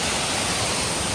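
A waterfall near Bhimashankar produces a short burst of steady, broadband rushing roar. It is close and loud, with no voices.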